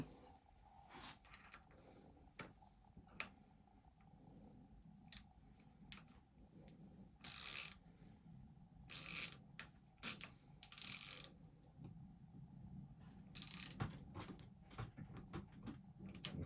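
A torque wrench tightens the stem bolts on a mountain bike to 6 foot-pounds, giving several short, sharp mechanical clicks and ratcheting bursts spread irregularly over quiet workshop background, close and moderately loud.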